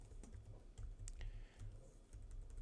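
Faint, soft keyboard clicks typing code into an APL programming environment, scattered quietly over a steady low background hum with no speech.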